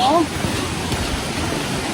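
Forest stream flowing on a jungle hiking trail, a steady broadband rush of water close by, continuous and even, with a brief voice at the start.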